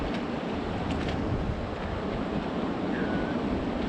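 Strong ocean swell surges around a sailboat at anchor during spring tides, a steady loud rush of water and wind with no voices.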